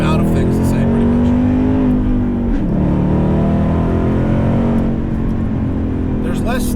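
A 710 hp 2019 Roush Stage 3 Mustang pulls hard from inside the cabin, its engine a loud, steady roar that rises in pitch, dips briefly at a shift, then climbs again.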